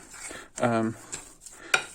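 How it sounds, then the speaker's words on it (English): Sourdough starter and salt are mixed in a bowl, giving a few scraping, stirring strokes with one longer smeared scrape and a sharp knock near the end, moderately quiet. "Now I'm gonna mix it all up."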